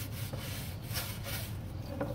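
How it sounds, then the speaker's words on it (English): Teak boat trim on a 1977 Boston Whaler 21 Outrage being scrubbed with teak cleaner, a soft close rubbing and rasping in quick repeated strokes, steady and low in level with no talking. "But you just do a little scrub on it."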